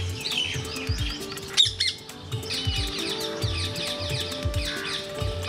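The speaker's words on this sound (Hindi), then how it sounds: "खामोशी में पक्षी जब चहचहाते हैं तो" Birds chirping and calling around ponds in Jaipur, Rajasthan: several overlapping tweets and squawks, busy and continuous, with a short break in the middle and low background rumble underneath.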